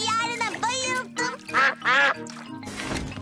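Cartoon ducks in a Peppa Pig episode let out a series of loud, nasal quacks in short bursts, close and clear, with a bright squawk near the end.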